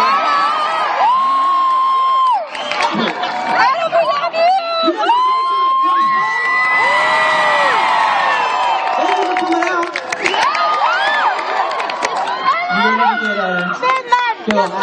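A studio audience at a live late-night talk show cheers and whoops for a guest, with loud, sustained crowd noise and shouting mixed with a voice throughout the whole stretch.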